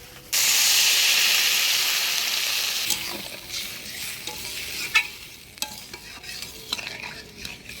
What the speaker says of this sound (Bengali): মশলা থেকে তেল ছেড়ে দিতে মশলাটা আমি ভালোভাবে কষে নিলাম